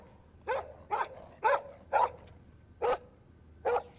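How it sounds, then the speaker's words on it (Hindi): A dog barks loudly and steadily, six sharp barks spaced about half a second apart, close by against quiet surroundings. "ये हमारा कुत्ता इतनी जोर से क्यों भौंक रहा है?"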